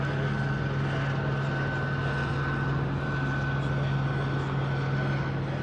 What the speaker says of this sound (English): And the helicopters are kind of just like slowly circling.